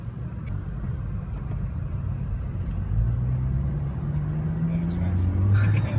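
A car engine rumbling while racing alongside a Toyota 86, a steady low drone with rising revs toward the end, heard from inside the car under people talking.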